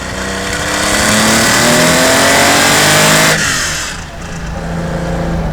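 A Porsche 911 RSR with a 3.2-litre twin-plug mechanical fuel injection engine and high butterflies revs hard up close, rising for about three seconds, then dropping sharply back to a lower, throbbing idle.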